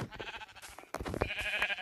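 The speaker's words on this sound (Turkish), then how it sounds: "Burada iki tane koyun var böyle." Two sheep in Minecraft let out short, sharp bleats in quick succession, close and loud with no talking over them.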